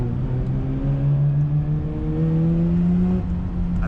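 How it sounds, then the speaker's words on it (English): Mazda RX8 Spirit R rotary engine in a car driven in Japan revs hard after a downshift, a loud rising whine heard from inside the cabin that climbs steadily in pitch, then drops briefly and climbs again, with no voices. "And the engine note is unique."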